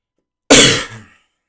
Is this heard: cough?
yes